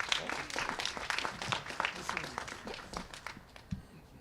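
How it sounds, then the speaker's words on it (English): Audience applause at a civic event announcing a city education initiative, a patter of individual claps thinning toward the end, fairly quiet and distant. "So let's give Ms. Marine a round of applause."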